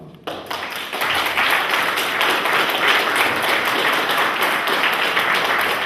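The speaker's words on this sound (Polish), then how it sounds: "to nie mnie należą się brawa, tylko brawa należą się naszym bohaterom i szanownym gościom" An audience at a commemorative event in a community cultural hall breaks into sustained, dense applause that swells quickly and holds loud and steady.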